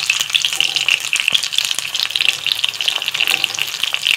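Minced-meat kebabs fry in a pan over a low flame, giving a steady, close crackling sizzle with no talk.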